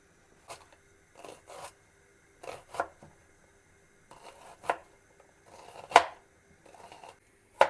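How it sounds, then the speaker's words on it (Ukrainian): A knife coarsely chops onion on a cutting board for a Transcarpathian cholent, giving a string of separate sharp, close chopping strikes in irregular rhythm with short pauses between them and no talking. "Цибулю буду різати нагрубо."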